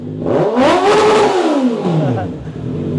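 A 2024 Honda CB650R E-Clutch with a new aftermarket exhaust gives one loud, close rev that climbs and then falls away over a few seconds, with brief talk nearby.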